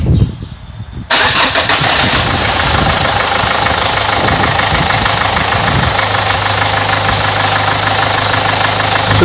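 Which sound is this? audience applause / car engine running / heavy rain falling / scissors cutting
car engine running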